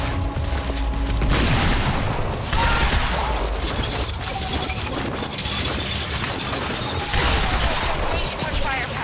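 Dense gunfire fusillade in the shooter video game Quantum Break, loud and continuous with booming impacts and rapid bursts layered together throughout.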